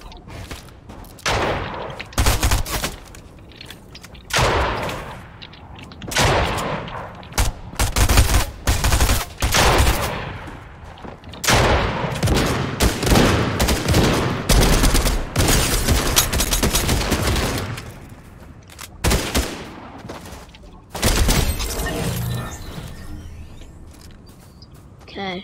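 Gunfire in the video game Fortnite, with rapid bursts of shots and scattered single cracks in uneven clusters, loud and close, mixed with occasional talking.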